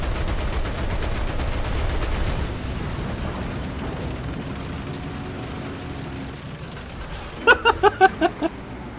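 Gunfire in a World War II flight combat game as an Fw 190 fighter is shot down: a dense, continuous roar of engine and weapon noise, then a quick burst of about five sharp, loud shots near the end.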